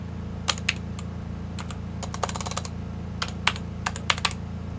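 Keys clatter on a computer keyboard during a flight-simulator session, in irregular bursts of quick clicks and single presses over a steady low hum, with no voices.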